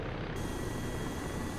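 MH-6 Little Bird helicopter in Arma 3, a steady, close rotor and engine drone filling the moment with no break or change.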